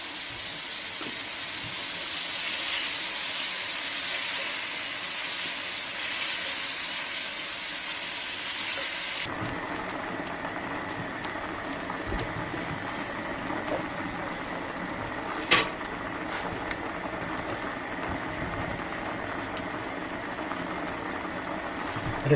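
Butter sizzles in a hot pan with mushrooms and bacon for a pasta dish, a dense, loud frying hiss that drops to a softer, steady bubbling crackle partway through, with a sharp clank of utensil against pan.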